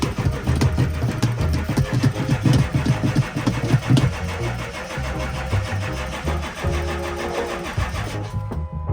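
A semi truck's engine cranks and churns in loud, rhythmic pulses close by, the heavy mechanical sound shifting and easing toward the end.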